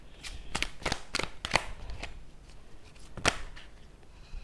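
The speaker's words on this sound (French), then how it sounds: "Passons au tirage des cartes." Oracle cards shuffled for a card draw, a run of quick papery riffles and slaps, close and fairly soft, heard alone without talk.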